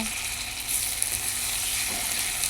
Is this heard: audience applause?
no